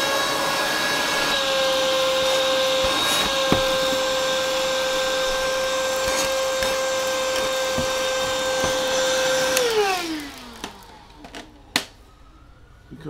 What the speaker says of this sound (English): Grab a little hoover. Just more awful, horrendous, non-video friendly noises.